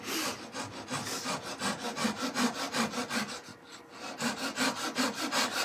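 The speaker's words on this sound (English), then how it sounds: "So let's get my little tool saw." A small hand tool saw cutting wood at a lathe during woodturning, a quick rhythmic back-and-forth rasp of about a dozen even strokes, close and alone.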